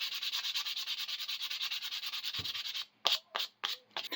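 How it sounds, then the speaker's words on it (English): Sandpaper wrapped around a dowel rubs back and forth across the nose of a handmade wooden striped bass plug, a steady close scratchy rasp that stops near the end, then gives way to a few short separate strokes. "I'm shaping the nose of it a little bit by just taking some sandpaper, sticking it around a dowel, and then sanding across the face of it"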